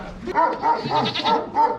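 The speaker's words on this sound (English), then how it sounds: "Look at all these goats here." Goats bleating at close range in a cemetery neighbourhood in Egypt, five or so rapid, wavering cries in quick succession with no talk.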